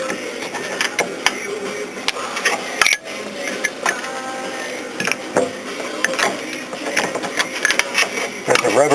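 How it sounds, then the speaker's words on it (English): Prying on a part of a Volkswagen Bug held by a rubber bushing produces close metallic clicks, scrapes and creaks in irregular bursts, mixed with handling clatter and some faint talk. "So now we pry on this thing a little bit."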